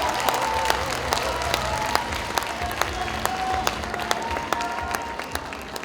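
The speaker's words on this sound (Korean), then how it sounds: "박홍원 의원님께 큰 박수 부탁드리겠습니다" Sustained applause from a crowd at a book launch in Wonju, honoring a Democratic Party lawmaker, with steady clapping throughout and a busy room murmur beneath.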